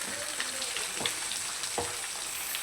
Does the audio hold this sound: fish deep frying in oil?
yes